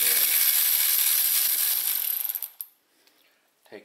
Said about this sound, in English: take the nut off.